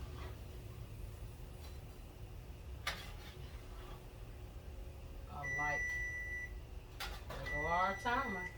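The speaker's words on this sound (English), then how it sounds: "there go our timer" A kitchen timer beeps while fries are frying, a few clear electronic beeps over the steady hiss of frying, with a voice talking nearby.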